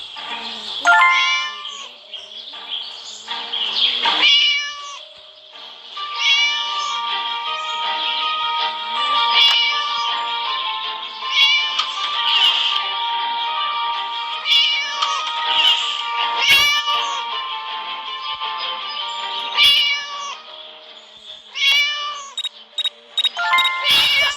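Repeated high-pitched meows and cries from a cat in the video game Scary Teacher 3D, some drawn out into wails, continuing over about twenty seconds with brief pauses.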